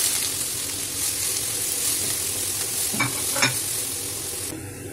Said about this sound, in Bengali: রসুনের সাথে বিটটা খুব ভালো করে মিশিয়ে নিয়েছি।